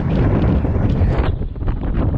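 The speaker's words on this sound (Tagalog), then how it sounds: "Medyo mahangin." Strong wind buffeting the microphone at the top of Mother's Wonderland in Tayabas, Quezon, a loud continuous low rumble with gusty surges and no talk.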